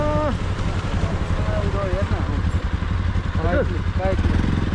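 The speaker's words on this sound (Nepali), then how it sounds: "लोकेको बाइक हो" A motorcycle engine runs steadily in rain on a muddy rural road in Tehrathum, Nepal, with a low continuous drone close by while people talk over it.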